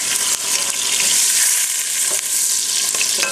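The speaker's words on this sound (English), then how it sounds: "So now I'm going to flip my onion" Onion sizzles loudly in a hot frying pan as it is turned with tongs and a wooden spoon, a dense, continuous crackling hiss close up with a few soft clicks of utensils.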